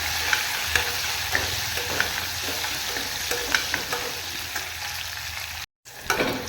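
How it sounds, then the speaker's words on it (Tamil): Curry leaves and onions sautéing in a pan give a loud, continuous close sizzle with light stirring scrapes, broken by a brief dropout near the end, no speech. "கருவேப்பிலை போட்டுக்கலாம். இப்போ எல்லாம் நல்லா வதங்கட்டும்."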